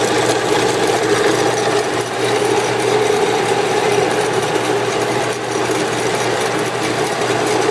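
A 7x12 horizontal band saw runs with its hydraulic down feed lowering the head, a steady, close mechanical whir with a constant low hum and no break or voices throughout.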